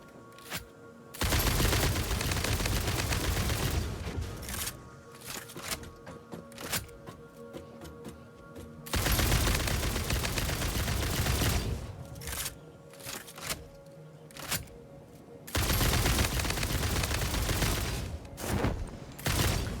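Bursts of rapid gunfire from a weapon in the video game Satisfactory, with loud sustained volleys broken by short pauses and scattered single shots, all without talk.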